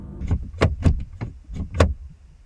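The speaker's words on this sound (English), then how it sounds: "Moments later, an attempt was made to open the sliding door." Someone outside at night works the handle of a camper van's sliding door, producing a series of six or so close, heavy rattling clunks in an uneven rhythm.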